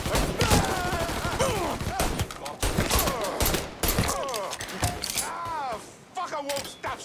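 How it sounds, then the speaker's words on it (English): Heavy gunfire in the video game Mafia 3, with repeated sharp bursts of shots and mechanical clanks over several seconds, loud and close, while voices shout in the background. "I won't stop shooting!"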